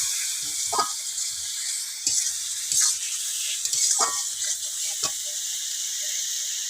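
Spice paste with chilli powder frying in oil in a pan after a splash of water, heard as a constant bright hiss and sizzle broken by several scraping stirs of a spatula for a curry of country chicken.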